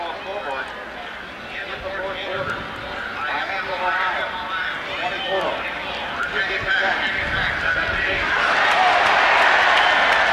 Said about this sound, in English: Crowd reacting to Virginia Tech trailing by a touchdown.